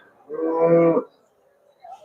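A big bull at the Melapalayam cattle market gives one loud, close, harmonic moo lasting under a second, then falls quiet, with a faint murmur of the market at the very end.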